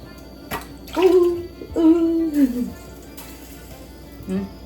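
Water is poured into coconut milk to thin it for tapioca cooked in coconut milk (paal kappa), in a Kerala home kitchen, giving two gurgling pours with rising pitch and a short final trickle.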